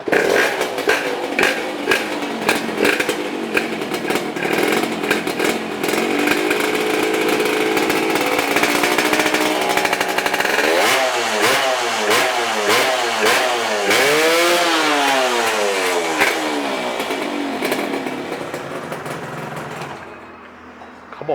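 A Suzuki Sonic motorcycle fitted with a Honda Dash engine idles with a rapid, buzzy rattle, then revs up and down several times in quick swells, loud and close, before cutting off.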